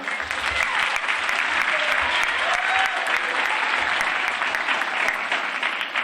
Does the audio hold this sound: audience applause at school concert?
yes